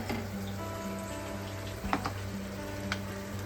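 Masala paste frying in oil along with tomato, salt and turmeric for soyabean pulao: a soft, steady sizzle over a low hum, with a couple of brief clinks from stirring, and no voices.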